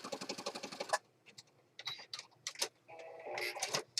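A sewing machine stitches through an accordion-fold journal in a fast, even run of needle strokes, then stops and gives way to scattered clicks and handling noises before a short burst of stitching starts again.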